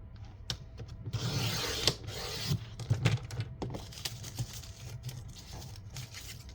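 A paper cutter slices stacks of paper into half-inch strips, giving a series of close, crisp mechanical clunks and rustling swishes at an uneven pace, with no talking.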